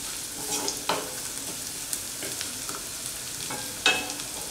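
Curry leaves hit hot oil with frying onions for matar chole, giving a steady loud sizzle with sharper crackles and spits as they land, and a spoon stirring the pan.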